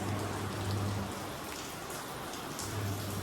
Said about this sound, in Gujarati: આ તો ધીમો ધીમો વરસાદ છે